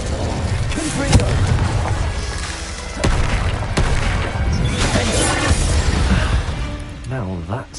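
Explosive blasts and crackling bursts from the Confringo spell in the video game Hogwarts Legacy, with several sharp booms at irregular intervals over a loud, busy backdrop of game effects and talk.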